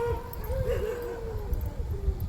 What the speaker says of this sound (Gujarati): કૂતરા ભયાનો અવાજ આવે છે,